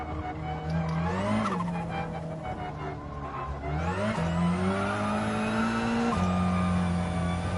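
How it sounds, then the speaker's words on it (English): A race car in the Gran Turismo 7 video game spins its wheels with sustained tire squeal over a loud, rising and falling engine drone, shifting through gears as it accelerates. "And that's a lot of wheel spin."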